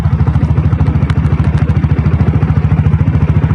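A Royal Enfield Bullet with a diesel engine runs at a steady idle, a loud close thumping beat of rapid, even pulses with a faint metallic clatter over it and no talk.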